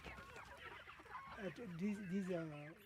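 Chickens cluck and squawk close by in a busy farm run of about 200 birds in Uganda, the calls overlapping with a bird's rising, honking cry near the end.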